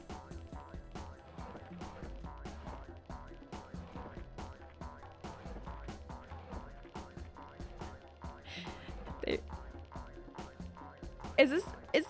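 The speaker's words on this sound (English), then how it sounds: "Is the hopping from the baby frogs I've collected?" Baby frogs hopping in the video game Frogger 2, heard as a quick, regular train of small springy blips repeating throughout, with a few louder game effects near the end and a voice talking over it.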